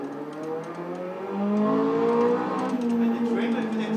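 Car engine in a racing video game, a steady droning whine with gliding pitch as the virtual car accelerates and shifts, moderately loud throughout with faint background noise.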